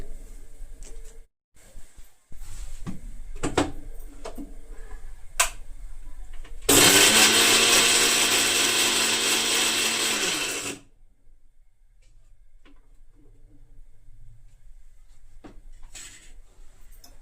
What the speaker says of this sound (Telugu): ఓన్లీ మిరియాలు ఉప్పుతోనే మిక్సీ పట్టేసుకుని మనం జ్యూస్ తాగుదా